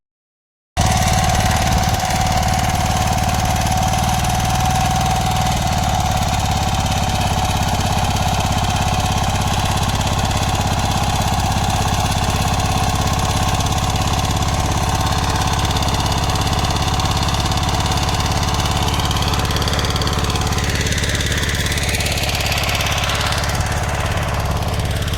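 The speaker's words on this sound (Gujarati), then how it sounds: "ચાલો બાઇક ચાલુ કરો" A motorcycle engine starts after a brief silence, then runs steadily with a loud, close, rough mechanical drone that carries on without a break.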